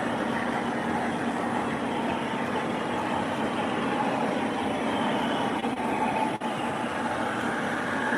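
M1 railcar train rolling past, a sustained loud rumbling roar with steady wheel and engine noise lasting the whole stretch, without any talk.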